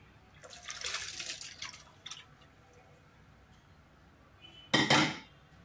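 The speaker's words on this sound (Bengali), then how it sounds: "এর মধ্যে আমি অল্প পরিমাণ ঠান্ডা জল দিয়ে ধুয়ে নিলাম" Boiled pasta being rinsed with cold water, with a short run of splashing and dripping, clinks of cookware, then a second louder burst of water near the end; close, no talking.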